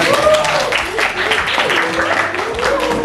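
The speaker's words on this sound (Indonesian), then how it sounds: "Oke, tepuk tangan dong." Steady clapping from a group of people in a classroom fills the whole moment, a continuous patter of many hands close by, with voices mixed in.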